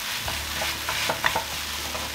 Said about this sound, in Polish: wrzucam nasze tofu tutaj na patelnię